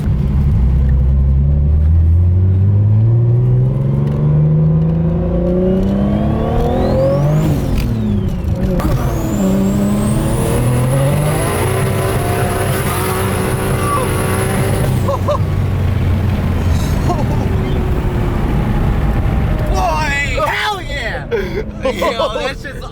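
A BMW E30 engine revs up through rising gears while driving, loud and close, climbing and dropping in pitch with a high whine at the peak, as excited voices talk over it.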